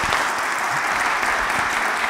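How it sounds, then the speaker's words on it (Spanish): An audience at a Chilean judiciary event applauds a guest speaker, a steady, full wash of clapping that fills the whole moment without pause. "Y le damos otro aplauso"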